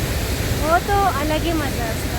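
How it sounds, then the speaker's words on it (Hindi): Steady rush of flowing mountain water on the Valley of Flowers trek, with wind, running as a constant broadband wash beneath a person talking close by. "पानी की जो आवाज़ आई जा रही है ना से"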